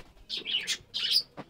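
Caged budgerigars chatter in an aviary with nesting pigeons: two close bursts of shrill chirps and warbles, then a few softer tweets, with no voices.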